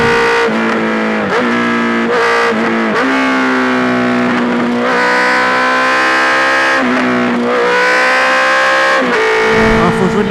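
A 2020 Honda CB 650 R four-cylinder motorcycle, A2-restricted, is ridden at full throttle: its loud, close engine howl climbs in pitch, drops briefly at each upshift, then rises again through several gears.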